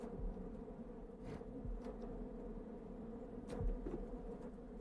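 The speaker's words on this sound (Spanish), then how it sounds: "al revoloteo de las abejas que es constante alrededor de los meleros" Bees swarm constantly around honey collectors raiding a hive in northern Quichua country, a steady close buzzing drone with individual insects whizzing past now and then.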